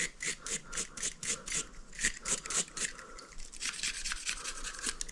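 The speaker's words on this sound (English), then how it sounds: "Sometimes steel wool works good on certain spots that the brush doesn't, but the brush or steel wool will work." A brush or steel wool scrubs the frame of a 1983 Yamaha IT 175 during restoration, giving a close, rhythmic rasping with quick repeated strokes that run steadily throughout.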